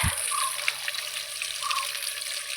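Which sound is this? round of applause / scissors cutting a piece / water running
water running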